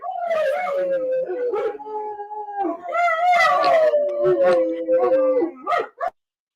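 Pet dogs howl together in long, wavering, overlapping tones mixed with yips and whimpers, loud and close, before breaking off abruptly.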